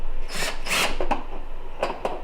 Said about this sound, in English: I'm just undoing the screw.